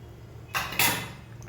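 A spoon stirs lemon into sambhar in a metal pot, giving two quick scraping clanks with a brief metallic ring between them.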